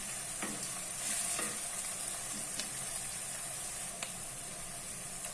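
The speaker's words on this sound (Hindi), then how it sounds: "अदरक भी बड़े अच्छे तरीके से फ्राई हो गया" Ginger fries in a pan with a steady, soft hiss of sizzling oil and a few faint clicks, fairly quiet and even throughout, with no voices.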